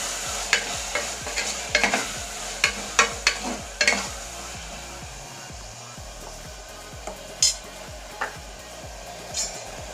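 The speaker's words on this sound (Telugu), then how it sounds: "అల్లం వెల్లుల్లి పేస్ట్ కొంచెం ఫ్రై అయిన తర్వాత అందులోనే టొమాటోస్ వేసుకోవాలి. వేసి కలుపుకోవాలి." Tomatoes are stirred into frying ginger-garlic paste in a pan for country chicken curry, a steady sizzle with a regular scraping rhythm and several sharper clinks of the utensil, close up and without voices.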